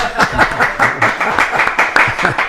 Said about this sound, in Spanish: Un aplauso grande para Héctor Moyano.